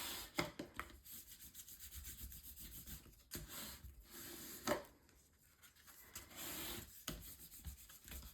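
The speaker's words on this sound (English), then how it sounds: "Once I have that on, I will go ahead and burnish this down." Paper is burnished down on a mini album with repeated soft rubbing and scraping strokes, quiet and close, punctuated by a few light taps.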